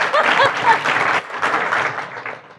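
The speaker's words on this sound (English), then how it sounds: "Woo, let's clap." An audience at a talk bursts into lively applause, a short dense wash of clapping with a few cheers and light laughter mixed in.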